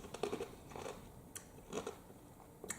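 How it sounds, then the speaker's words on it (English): Someone crunches ice cubes between their teeth, giving several sharp, crackling bites in quick irregular bursts, close up with nobody speaking. "I'm chewing on some ice."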